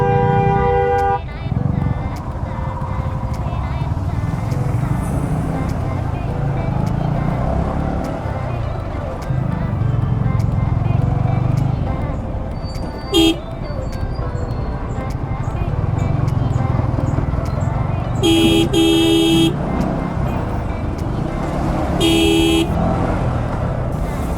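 Steady roar of traffic on the Dhaka–Sylhet highway, with car engines rumbling close by and horns tooting several times near the end, while someone talks over it.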